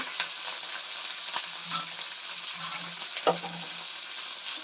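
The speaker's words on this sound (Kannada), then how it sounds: "ಸ್ನೇಹಿತರೆ ಚೆನ್ನಾಗಿ ಎಣ್ಣೆಯಲ್ಲಿ ಈರುಳ್ಳಿ ಎಲ್ಲ ಬೇಯಬೇಕು ಕೆಂಪುಗೆ" Onions and curry leaves fry in oil for a homemade kayi bajji sambar, giving a steady close sizzle with scattered crackles and a few soft stirring knocks, with no talking.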